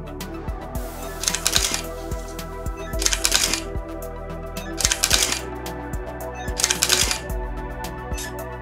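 An XF camera shutter fires a series of timed interval shots. Several crisp mechanical clacks recur at roughly two-second spacing over a quiet room with faint background noise.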